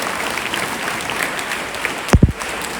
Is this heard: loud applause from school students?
yes